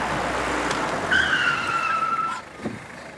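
A car skids to an emergency stop on a street, tyres squealing in a high sustained screech for about a second over steady road noise, then cutting off.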